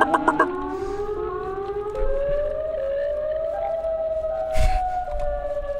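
Sirenhead's long siren wail from an indie horror video game, rising slowly in pitch and sustained for several seconds, loud and eerie over a low rumbling background, with a brief thump partway through.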